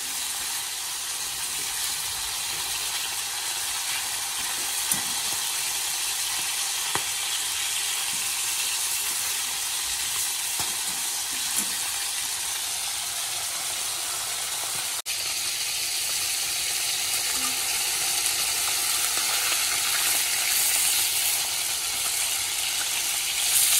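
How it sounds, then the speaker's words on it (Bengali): Slices of pointed gourd (potol) sizzle steadily in hot oil in a pan, a continuous soft frying hiss with faint stirring clicks and no talk. "এই জন্য আমি অল্প অল্প করে ভাজবো, যাতে পটল ভাজাগুলো বেশ সুন্দর টেস্টি হয়।"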